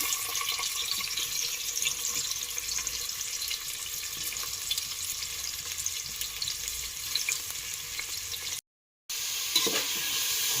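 Onions deep frying in oil in a pan for Malnad chicken biryani, a loud, steady, close bubbling hiss that runs without pause apart from a brief dropout near the end, with no talking.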